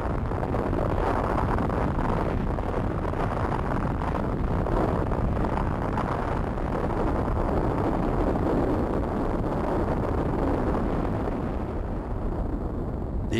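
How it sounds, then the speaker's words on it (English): The world's first atomic bomb test explodes in the New Mexico desert on July 16, 1945, a deep, continuous roaring rumble that rolls on at steady loudness for over thirteen seconds. "the world's first atomic bomb was exploded"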